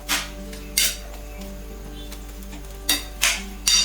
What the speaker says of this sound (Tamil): இப்போ நம்ம சாஸோடவே சேர்த்து நல்லா ஒரு டைம் ஃபுல்லாகவே கலந்து விட்டுருவோம்